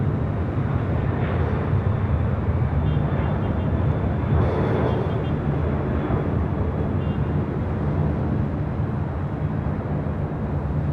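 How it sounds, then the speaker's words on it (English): Delta Air Lines A330neo airliner at LAX, a loud, steady jet engine roar that fills the whole stretch without letup, with faint chatter of people nearby underneath. "That is Delta Airlines Flight 186, A330 Neo"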